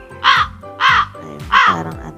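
Three loud crow caws spaced evenly in quick succession, played as a sound effect through a V8 sound card, with a voice faintly beneath.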